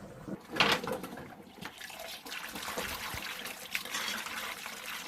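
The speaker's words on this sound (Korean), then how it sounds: "찬물에다 담궈서 자, 흐르는 물에 어, 헹궈주세요" Cold tap water runs steadily over blanched butterbur greens in a kitchen, a soft continuous splashing trickle with occasional louder splatters as the greens are handled.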